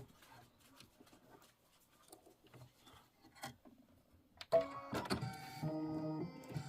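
Quiet rustling and handling give way midway to an embroidery machine stitching a placement line for a quilt block, a loud, close, rhythmic mechanical hum that continues to the end.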